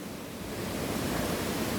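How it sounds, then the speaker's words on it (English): Caribbean waterfall roaring as a steady, dense broadband wash of falling water, loud and continuous with no voices. "this is the beginning of the waterfall"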